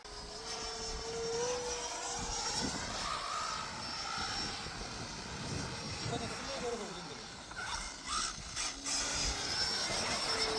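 An RC F-22 Raptor model jet flies overhead at an RC flying field, its engine whine rising and falling as it passes, moderately distant, with people talking and wind noise throughout.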